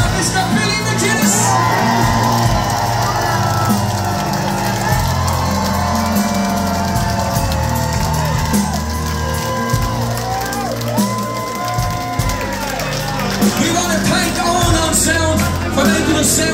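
A loud crowd at a live band gig in Whelan's, Wexford Street, whoops, yells and cheers continuously, with music and voices blending into the dense roar.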